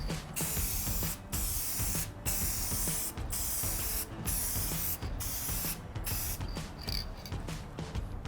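Clear coat is sprayed onto a Toyota 4Runner in close, loud bursts of hiss, each about a second long and split by short pauses in a steady rhythm.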